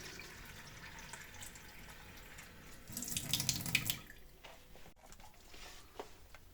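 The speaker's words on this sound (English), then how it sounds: "Fill up this pot with water." A tap runs water into a pot, a soft steady stream that swells louder for a moment as the pot fills, then eases off; quiet and close, with no talking.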